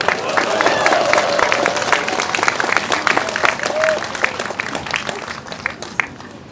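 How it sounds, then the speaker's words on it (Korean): Crowd applause at a Korean political rally on impeachment, sustained and fairly loud across the whole stretch, with scattered shouts and voices mixed into the clapping. "박수 한번 쳐주십시오"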